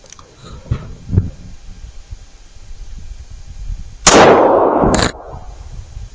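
A single loud, sharp gunshot from a 2-inch revolver firing a 158 grain lead semi-wadcutter into 40-year-old body armor outdoors, with a short echo after it and quiet rustling and a few faint knocks before the shot.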